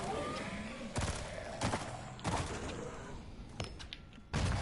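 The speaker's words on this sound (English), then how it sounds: "you will be hearing the same gunshots over and over again" Gunfire from the Zombieland: Double Tap Road Trip video game on PS4 sounds as a few sharp shots spaced over a continuous noisy game background, loud and close.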